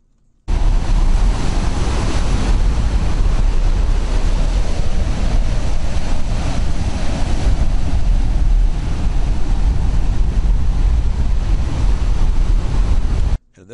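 Steady ocean waves wash continuously onto a beach, a loud, dense roar of surf with wind rumble, running unbroken for about thirteen seconds before cutting off abruptly.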